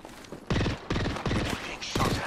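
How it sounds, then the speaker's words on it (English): Gunfire in a shooter video game comes in four loud, close bursts of rapid shots separated by brief gaps. "Firing on our foes"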